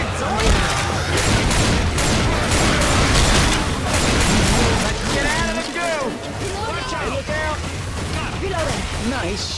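Dense, continuous gunfire in the video game Left 4 Dead 2, loud rapid bursts under shouted character voices, with overlapping shots throughout.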